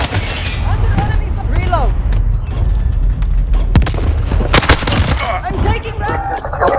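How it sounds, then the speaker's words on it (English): Cluster strike explosions in Modern Warfare on PS5 boom and rumble under steady battle noise, with a sharp cluster of blasts midway and radio voices talking throughout. "Allied cluster strike inbound."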